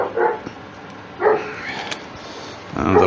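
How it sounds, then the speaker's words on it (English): A dog barks off in a woodturning workshop, a few short harmonic bursts spaced out over a steady low background hum, fairly distant rather than close. "And the dog is barking at something."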